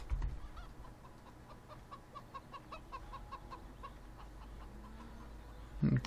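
Chickens cluck in a steady run of soft calls in Farming Simulator 17 on an old Slovenian farm map, set against a low, constant ambient hum with a brief thump near the end.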